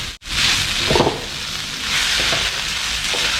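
Bean sprouts and scallions sizzle and crackle in a hot pan, with scraping stir sounds breaking through the steady frying hiss.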